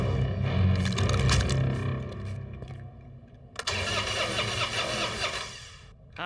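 A cartoon car engine cranks and tries to start, a rough mechanical churn that stops briefly and then sets off again into a louder, buzzing crank-over.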